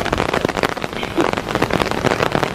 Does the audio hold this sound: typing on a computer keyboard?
no